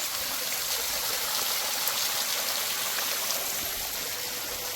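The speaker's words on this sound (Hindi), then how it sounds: "और देखो कितना बड़ा झरना है यहाँ से और ये सारा पानी देखो कैसे आ रहा है नीचे को" Steady rushing water from a large roadside mountain waterfall, a continuous bright hiss that holds even and loud throughout with no voices.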